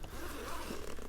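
The zipper on a lightweight packable backpack is pulled open in one continuous close rasping stroke, lasting about a second with no talk.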